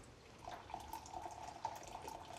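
Boiling water poured from a kettle into a bowl for a self-saucing chocolate pudding, a steady bubbling, trickling pour lasting the whole stretch at moderate, close volume with no talk.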